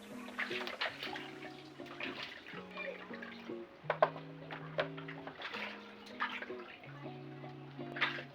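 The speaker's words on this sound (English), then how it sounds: "I wash the fish properly to remove any blood or dirt" Tap water runs steadily while raw tilapia is washed by hand, with soft splashing and trickling close by, under a background of gentle tonal music.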